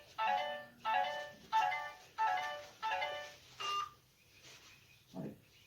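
Phone low battery alert, a string of about six bright electronic tonal beeps in a quick, evenly spaced rhythm, followed by a couple of softer, lower notes as the sequence trails off.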